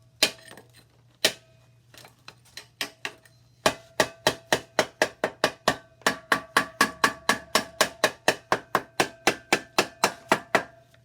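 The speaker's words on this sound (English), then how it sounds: "The second thing that works great is a little air hammer." A small Harbor Freight air hammer chips concrete away from a basement window frame. It starts with scattered sharp knocks, then settles into a fast, even run of loud, close impacts with nobody talking.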